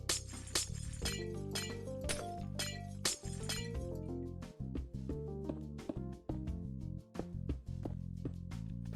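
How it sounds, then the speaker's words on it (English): Glass blocks being broken in the Minecraft video game, a rapid series of bright clinking shatters repeating in quick rhythm over background music, fairly close and steady throughout. "We can now remove the glass blocks and replace them with our grey glass panes."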